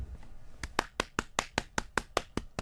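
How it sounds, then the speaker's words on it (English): A single person claps their hands in self-applause: about ten sharp, evenly spaced claps, close and clear, with quiet room noise underneath. "I just gave myself applause."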